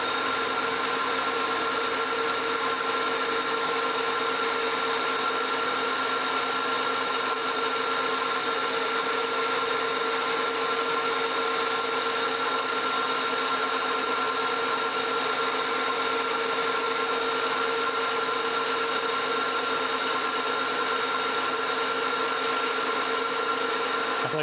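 A metal planer cuts a cast iron gear blank with a hardened skin, giving a steady, even machining drone with a sustained tonal whine that holds unchanged throughout, close and moderately loud with no talk.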